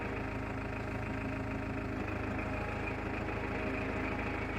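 A Farmtrac 6055 Worldmaxx 55 HP tractor engine running in gear, a steady, loud, low diesel drone with an even mechanical rumble and no break or change in pitch.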